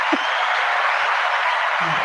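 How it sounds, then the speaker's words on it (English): A round of applause from a small audience at a casual talk show, steady broadband clapping filling the whole moment at an even level, with a couple of brief voice murmurs near the start and end. "What a round of applause for that."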